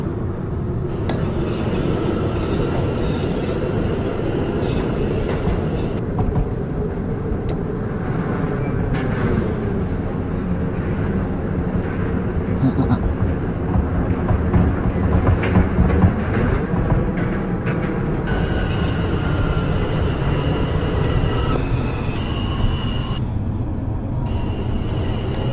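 An R160A subway train in the openBVE simulator pulls out of Church Avenue on the R line, its motors whining and humming steadily louder over a continuous rumble of wheels on rail.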